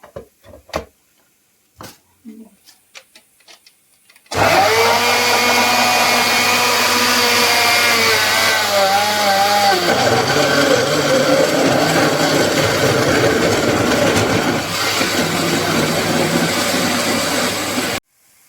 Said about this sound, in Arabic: انا حطيت هنا شويه ميه في الخلاط عشان اقدر الف الطماطم بدل ما توقف لي الموتور